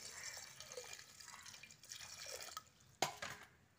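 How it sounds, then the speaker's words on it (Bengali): Water poured over small new potatoes in a pressure cooker: a soft, faint trickle and dripping with a sharp clink near the end, no talking. "তারপর পরিমাণ মতো একটু জল দিয়ে দিচ্ছি।"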